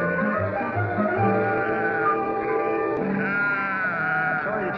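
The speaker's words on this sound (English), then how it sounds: "your sheep's nibbling on my grass" Several sheep in a ranch setting from a classic TV comedy bleat loudly and continuously, their overlapping wavering cries filling the whole moment up close with no talking.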